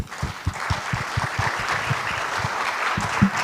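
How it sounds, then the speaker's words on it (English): Audience at an Earth observation technology conference session applauds the panelists with dense, steady clapping that fills the whole stretch, fairly loud and even, with a few sharper individual claps standing out near the end. "Let's give them a round of applause."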